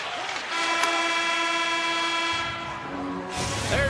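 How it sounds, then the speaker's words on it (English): The end-of-period buzzer in an eHockey video game sounds as a loud, sustained horn-like blare lasting about two seconds and then shifting pitch briefly, over faint background noise. "There's the buzzer."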